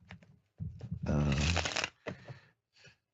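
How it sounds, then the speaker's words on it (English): Playing cards being shuffled, a dense riffling burst in the middle with short card flicks around it, close up, while someone talks on either side. "Just listening to me shuffle cards"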